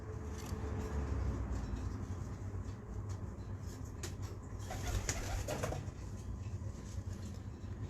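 A ten-year-old pigeon coos in a steady, noisy setting, the soft low calls hard to pick out against a constant background hum, with occasional brighter clicks and rustles.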